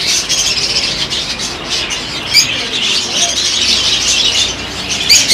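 Many cockatiels in a cage at a bird market in Salé, Morocco, squawking and chirping at once, a loud, busy chorus of shrill calls filling the space.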